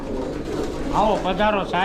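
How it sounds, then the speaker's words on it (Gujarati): Pigeons coo softly in a large shelter housing thousands of injured and sick birds, a steady murmur of calls with clearer coos near the end, while someone speaks a short greeting over them. "મેં તમને કીધું એમ ત્રણ હજારથી પણ વધારે કબૂતર છે"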